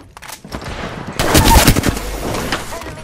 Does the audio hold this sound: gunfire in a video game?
yes